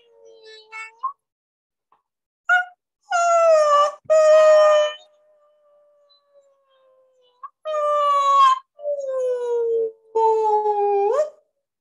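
Wolves howl in long, wavering, rising and falling cries, several separate howls with quiet gaps between, loud and clear with no talk.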